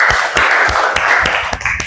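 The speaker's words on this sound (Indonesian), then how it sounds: "Berikan tepuk tangan untuk kelompok 2." Applause from students in a classroom for group 2 after their presentation, a steady patter of hand claps lasting under two seconds at moderate loudness.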